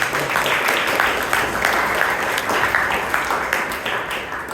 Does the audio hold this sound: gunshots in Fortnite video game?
no